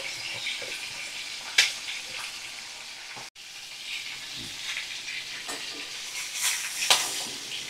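Fish shallow-frying in oil over a medium flame, a steady close hiss and sizzle with occasional louder spits and crackles, and one brief dropout midway; no voices.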